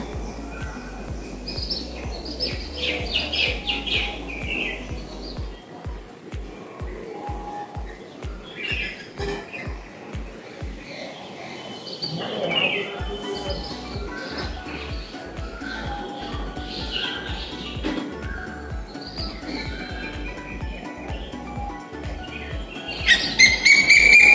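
Birds chirp and call repeatedly outdoors after heavy rain, bright tweets scattered over a steady rhythmic low thumping background, fairly close and continuous throughout.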